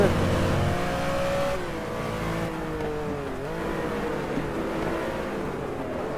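Race car engine of a Porsche 906, a small-displacement 1960s Porsche racer in the video game GT Legends, droning steadily with a shifting pitch that dips and rises, under steady talk throughout.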